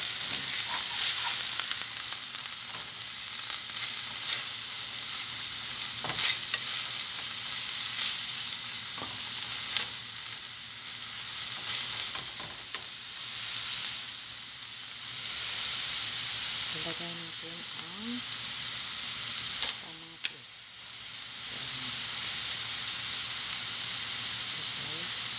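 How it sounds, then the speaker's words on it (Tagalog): Onions sauté in a pan with a steady, close sizzle and hiss, broken by occasional stirring clinks and scrapes over about twenty-five seconds. "Dalihan natin ang sibuyas."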